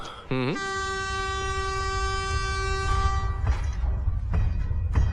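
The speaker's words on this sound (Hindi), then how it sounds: "ये तो ट्रेन की आवाज आ रही है" A train on railway tracks sounds a long, loud horn blast that holds steady for about three seconds, then heavy rumbling and clatter build as it draws near.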